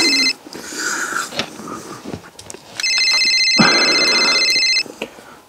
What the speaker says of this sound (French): C'est mon téléphone qui me réveille quelques heures après,